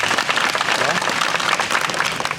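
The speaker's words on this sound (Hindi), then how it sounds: "इस जोश और इस होश के लिए जोर से तालियां बजा दें" Loud, dense clapping from an assembled audience at a gathering addressed to inmates, steady throughout the short stretch with no pause.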